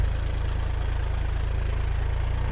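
A Massey Ferguson 245 DI tractor engine runs at a steady idle, a continuous low rumble with a regular pulsing throb, close and fairly loud, with no talking.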